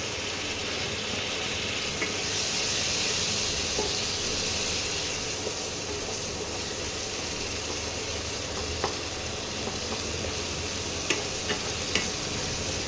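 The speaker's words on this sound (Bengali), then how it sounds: "আর একটু জল দিচ্ছি, মশলাটা আর একটু কষাতে হবে।" Spice masala for a Bengali bori and spinach ghonto sautés in a pan with a splash of water, giving a steady, even sizzle and hiss with a few faint clicks of stirring.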